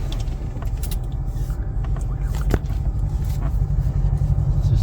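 Road traffic with cars passing on a town driving route on a Thursday morning, a steady low engine rumble close by with brief swells as vehicles go past.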